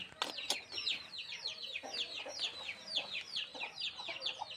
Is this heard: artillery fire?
no